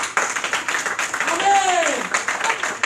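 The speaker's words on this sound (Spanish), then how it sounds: "¿O cuánto dan ese aplauso al Señor?" A church congregation claps for the Lord in quick, rhythmic hand strikes that repeat evenly, fairly close, with a voice rising briefly over the beat.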